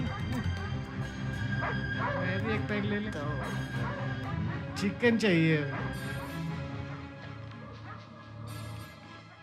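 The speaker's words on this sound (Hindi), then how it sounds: "सर वहाँ कुत्ता क्यों भौंक रहा है?" A dog barks and yips repeatedly in the background while people talk over it throughout.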